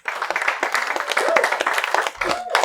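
A lecture audience at a talk on housing gives brief, scattered applause, a dense patter of many hands clapping nearby with faint voices underneath.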